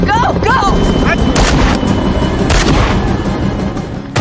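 An FBI team and a fugitive trade heavy gunfire in an action-film shootout, loud booming shots and cracking bursts stacked densely with echoing tails, while excited voices shout underneath.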